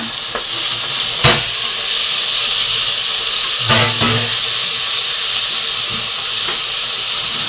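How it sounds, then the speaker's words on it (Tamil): Green chilies, coriander and mint sautéing in a pan for egg fry biryani: steady loud sizzle and hiss with a few stirring scrapes, no talk. "இப்போ எல்லாமே சேர்த்து நம்ம வதக்கிடுவோம்ப்பா"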